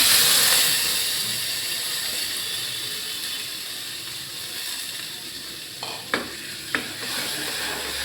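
Washed red lentils go into a hot pan over lowered gas, leaving a soft, steady sizzle with a few brief stirring scrapes and clicks near the end.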